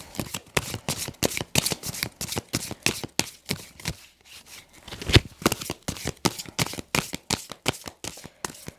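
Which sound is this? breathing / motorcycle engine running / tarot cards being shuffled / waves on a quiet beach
tarot cards being shuffled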